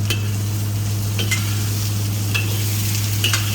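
Fried rice stir-fried in a pan without oil, with a steady dry sizzle and the repeated scrape and clatter of a utensil stirring the rice, over a constant low hum.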